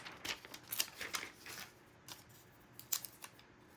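Wallpaper flower paper being torn by hand into small pieces for lace snippets, a run of quick close papery rips and rustles in short bursts, fairly quiet and with no talking.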